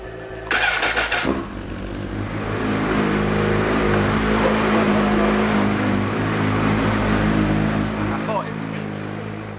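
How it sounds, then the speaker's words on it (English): A motorcycle engine turns over with a starter whir and then catches, settling into a steady, loud idle as it warms up before an oil and filter change. "we've got to start the bike up and let it warm up for a couple of minutes"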